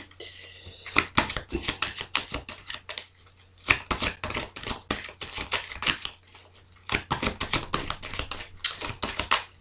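Tarot cards are shuffled and laid out in quick bursts of crisp riffling and slapping, grouped in several clusters separated by short pauses, close and moderately loud.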